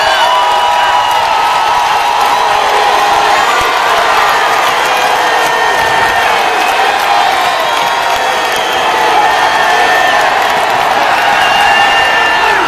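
A football crowd at a Division 6 state final roars and cheers loudly and continuously, a dense wash of shouts and whoops that fills the whole stretch with no break.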